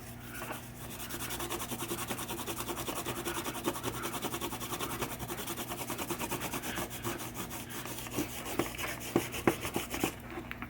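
Pinball stepper unit parts from a 1976 Williams Grand Prix machine are scrubbed with a Scotch-Brite pad, giving a steady, close rasping rub that becomes more uneven and choppy near the end.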